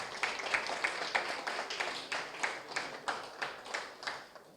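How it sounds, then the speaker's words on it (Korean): Quiet audience applause at a mainnet launch event, made of a run of separate, fairly steady claps in a soft rhythmic pattern, with no voices. "우리 또 다시 한번 박수를 부탁드립니다."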